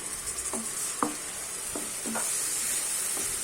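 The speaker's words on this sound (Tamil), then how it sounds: "இதை சேர்த்துட்டு ஒரு ஒரு நிமிஷம் அப்படியே வதக்கிக்கலாம்" Pureed tomato, made from three tomatoes, sizzles steadily in a hot pan for an urundai kuzhambu, a bright constant hiss with a few soft scraping stirs over it, close up.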